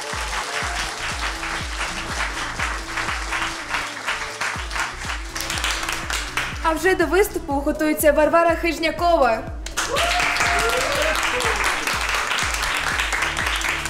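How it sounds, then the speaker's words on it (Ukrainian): At a televised singing-show gala concert, the audience breaks into sustained applause, a dense run of clapping under a host's announcement, then briefly gives way to singing before the clapping swells again toward the end. "І ці оплески від нашої глядацької зали для тебе!"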